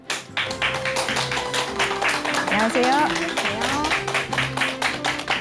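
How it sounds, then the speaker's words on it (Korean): A studio audience on a Korean talk show claps rhythmically to welcome a parenting-education lecturer, a close run of hand claps that continues as a voice speaks a greeting over it. "큰 박수 부탁드립니다."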